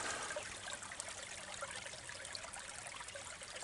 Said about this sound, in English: So the creek is flowing under the tree.